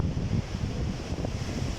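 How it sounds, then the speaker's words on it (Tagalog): Strong wind from Storm Darragh in Wales roars across the microphone in a steady, rumbling rush with gusty fluctuations, heard alone and fairly faint overall. "Rinig din naman siguro ang lakas ng hangin, no?"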